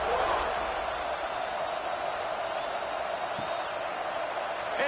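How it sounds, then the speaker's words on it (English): A college football stadium crowd with Rutgers playing keeps up a steady, dense roar after a score, a broad wash of cheering and chatter that fills the whole space. "this crowd is buzzing after that last score"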